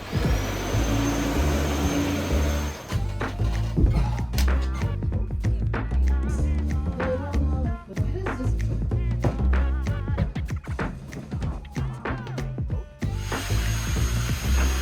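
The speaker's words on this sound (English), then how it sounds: "So all this bedroom here needs now is a vacuum" A vacuum cleaner runs in a newly renovated bedroom, a loud, steady roar with frequent bumps and knocks as it moves across the floor, going on with no talking.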